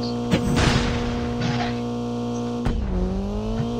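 A car drives in the Call of Duty video game, with an engine drone, bursts of noisy tire or skid sound and a sharp knock near the end.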